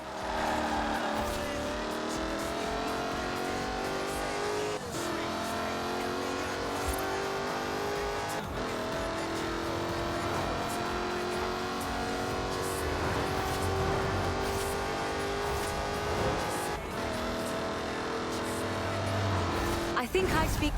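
A Jaguar Project 7 drives in Forza Horizon 4, its engine a constant loud, revving drone that rises and falls with gear changes. A voice talks over it throughout.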